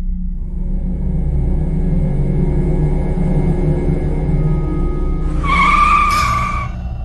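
A car in a Chinese folk horror video game rumbles low, then its tires let out a sharp, loud skid squeal near the end.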